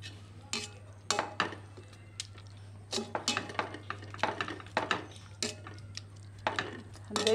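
Cooked taro greens being mashed in a pot with a substitute utensil in place of a proper masher, giving repeated close scraping and knocking clinks against the metal in an irregular rhythm, with a steady low hum underneath.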